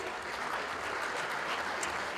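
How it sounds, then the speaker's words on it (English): Steady, dense round of applause from an audience honouring an engineer at a 2016 Arab engineers' gala, continuous and fairly loud throughout with no voices over it. "Congratulations, round of applause."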